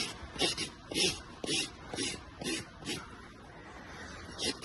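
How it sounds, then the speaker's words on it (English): A rasp files underneath a horse's hoof, giving a series of short, dry scraping strokes in an uneven rhythm, close by and fairly quiet. "I'm just going to do a little rasp from underneath"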